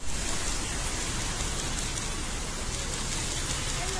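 Steady rain pours down outdoors, a dense, loud hiss that holds constant and close throughout.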